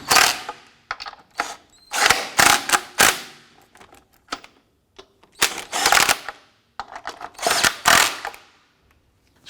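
Lug nuts on a 2001-2005 Honda Civic wheel are tightened with a powered impact tool, loud rattling bursts coming in several separate clusters with short quiet gaps between them.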